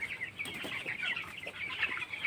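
Broiler chickens in a poultry shed cluck and chatter continuously in a dense, busy flock, with scattered sharper calls over constant background noise and no voices.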